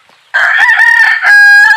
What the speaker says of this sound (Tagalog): Ang dami pong manok dito